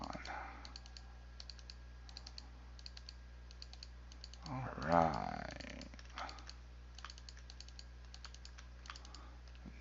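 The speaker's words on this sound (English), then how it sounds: "You can hear my mouse clicking." Quick, faint clicks from a computer mouse come in steady bursts during Minecraft building. A low electronic hum sits beneath them, and a voice speaks briefly midway.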